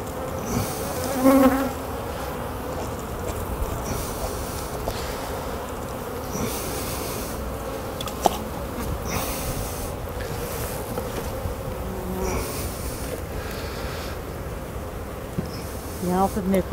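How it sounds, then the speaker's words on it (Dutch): Honey bees from a beehive opened by a beekeeper checking the colony for mites make a dense, steady buzz that fills the whole stretch, close and continuous, with no talking. "Deze bijen mag je natuurlijk wel afslaan, want die mogen wel nat of vochtig zijn."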